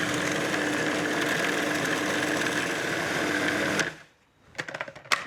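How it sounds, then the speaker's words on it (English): A kitchen blender whirs steadily and loudly, mixing a peanut butter, chocolate and Copha base, then cuts off abruptly, followed by a few light clicks and handling knocks. "So straight into the blender"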